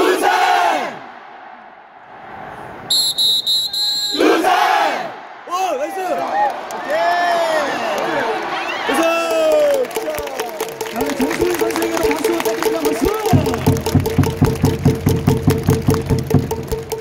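Baseball fans cheer and chant inside Gocheok Sky Dome, the crowd's roar swelling into loud group shouts. Rhythmic clapping and chanting build steadily over an extended stretch, while a cheer leader's amplified voice calls out over the noise.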